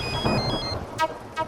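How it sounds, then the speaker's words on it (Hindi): A telephone rings in a home in Gokuldham Society at night: two short, bright ringing bursts, close by, after some fading background music. "आपका फोन बज रहा है।"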